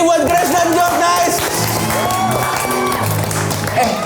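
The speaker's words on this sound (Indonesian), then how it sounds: "Kita kasih tepuk tangan sekali lagi buat Grace dan Jok" Cheering, whoops and clapping from an audience greeting Grace and Jok on a studio talk show, a loud, dense crowd roar that holds steady for the whole stretch.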